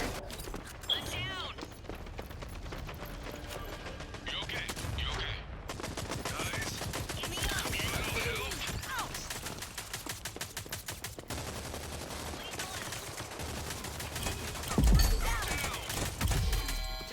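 Rapid, dense gunfire from the guns in the first-person shooter Prodeus, sustained volleys of shots with bursts of explosions, continuing loudly throughout under game sounds.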